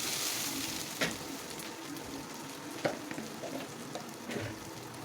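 Washed rice fries in a pot with cumin seed, a soft, continuous sizzle broken by a few sharp scrapes and knocks as it is stirred, fairly quiet and close.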